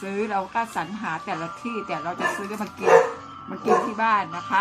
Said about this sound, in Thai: ขออภัยด้วยนะคะ น้องหมาเห่าอีกแล้วจ้า